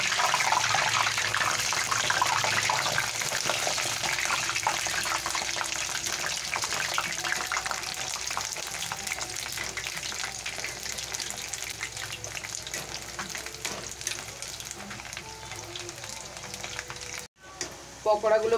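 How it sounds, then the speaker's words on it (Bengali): Potato pakoras fry in hot oil with a steady, close, crackling sizzle throughout, broken only briefly near the end. "পকোড়াগুলো ভাজা হয়ে গেছে,"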